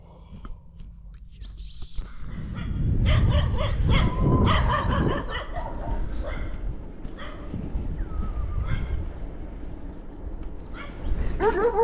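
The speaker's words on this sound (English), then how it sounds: "if you excuse the dogs barking" Several dogs bark and yip repeatedly at middling distance, with some whimpering, the barking loudest in the middle and continuing intermittently throughout.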